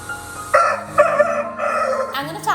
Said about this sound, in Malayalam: കൂട്ടിന് കോഴികളും ഉണ്ട് കേട്ടോ. സത്യം പറഞ്ഞാൽ ആ പൂവൻ എനിക്ക് നല്ല പേടിയാണ്.